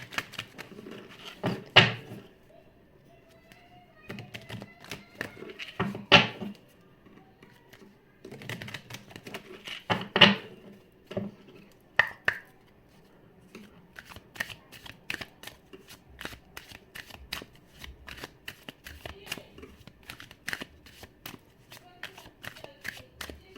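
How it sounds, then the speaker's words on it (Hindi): Tarot cards are shuffled by hand in repeated riffling bursts, crisp and close, with pauses between rounds and quick flicks of the deck, while a voice speaks at times. "शफल कर लेते हैं कार्ड्स हमारे।"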